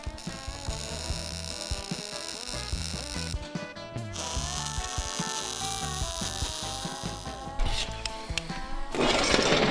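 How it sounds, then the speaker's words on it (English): Welding pieces together for the engine of a 1968 Jeepster Commando: a steady, close electric buzzing crackle runs for nearly ten seconds, breaking off briefly around the four-second mark and growing louder and harsher at the end, with no talking. "I'm going ahead and welding these things together."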